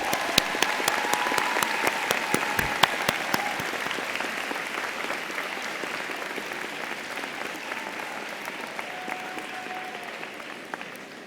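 A large audience at a 2014 nursing commencement ceremony claps in sustained, even applause that gradually softens over about eleven seconds.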